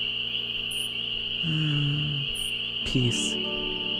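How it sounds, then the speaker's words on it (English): Crickets in the Nancy Drew: Ghost Dogs of Moon Lake video game keep up a steady high, continuous chirring drone throughout, with someone speaking briefly over it. "Listen to the crickets."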